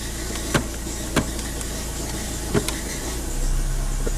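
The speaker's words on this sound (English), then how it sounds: "I'm going through the different gears here." A Nissan automatic transmission with a P0745 pressure control solenoid fault is shifted through its gears while the engine idles, with a few soft mechanical clicks over a steady hum.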